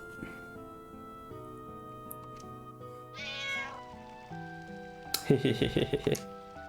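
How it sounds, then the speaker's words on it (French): A cat meows in the Final Fantasy 9 video game, several drawn-out calls followed by a rapid string of short meows, with quiet game music in the background and a voice talking. "Encore le chat."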